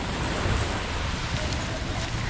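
Waves wash in at White Beach with a constant wind-buffeted rush of surf, loud and close on the microphone.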